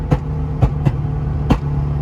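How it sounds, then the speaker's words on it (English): A Nissan G35 with a fresh remote tune idles close by, a steady low engine drone broken by four sharp blips or pops at uneven intervals, with no voices. "This car came to life, man."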